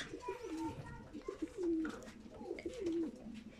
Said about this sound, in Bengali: এই দেখুন এক জোড়া কবুতর